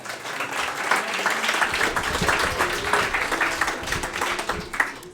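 Audience applause for a presenter at a French public science-communication talk, steady dense clapping from a crowd for about five seconds, moderately loud with no speech over it.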